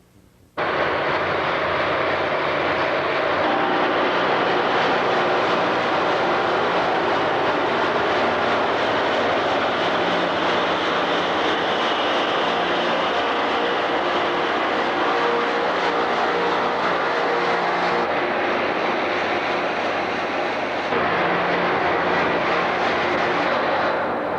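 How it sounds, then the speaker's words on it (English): A rail grinder passes along the railway track, a loud sustained roaring, grinding rumble that starts abruptly and stays strong for the whole stretch, recorded from a tripod beside the line. "This camera was left on a tripod as the rail grinder passed."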